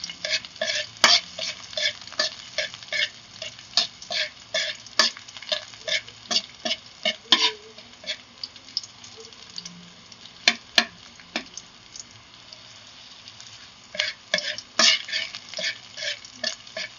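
Garlic sautéing in a pan for Filipino pork bone adobo, with rhythmic scraping stir strokes of a utensil over a soft background sizzle, close, the strokes coming in bursts with brief pauses, no talking.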